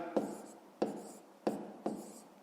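A pen writes numbers on paper during fifth-grade maths work, making four evenly spaced, crisp scratching strokes up close with no one talking.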